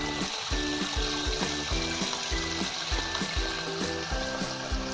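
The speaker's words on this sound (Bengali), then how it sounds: "আর এখন আমার সুইমিং পুলের জন্য আমি জল ভরছি" Tap water pouring steadily into a basin, a continuous rushing splash close by with a bubbling, pulsing rhythm as it fills.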